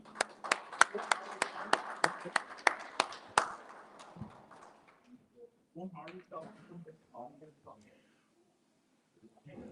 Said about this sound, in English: Give a good hand of applause to our musicians.